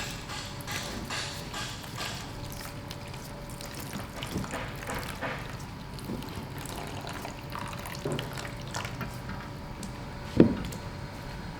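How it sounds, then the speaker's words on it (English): Water is poured and stirred into corn flour slime, giving a steady soft wet trickle with small splashes and clinks throughout and one sharper knock near the end. "now we're going to slowly add the water to the slime. To the corn flour."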